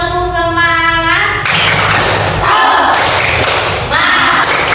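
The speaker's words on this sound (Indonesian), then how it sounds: "Tepuk semangat." A class of schoolchildren doing the rhythmic 'tepuk semangat' spirit clap, sharp claps in quick patterned bursts mixed with children's chanting voices and a teacher speaking, close and loud.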